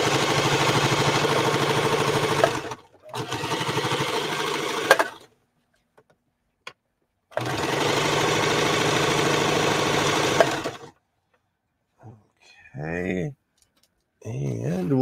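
A sewing machine stitches back and forth to reinforce a seam, running in loud sustained bursts broken by short pauses, with a brief voice near the end.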